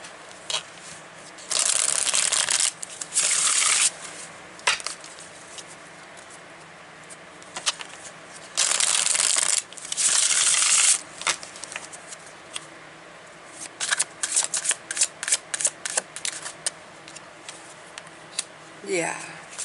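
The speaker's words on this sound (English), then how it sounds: "All right, so let's pull a few cards for this." Tarot cards being shuffled in repeated bursts of riffling and patter, close and fairly loud, separated by quieter handling sounds, with a voice speaking briefly near the end.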